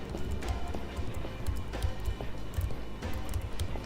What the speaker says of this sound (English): I like that it's doing the footstep sound.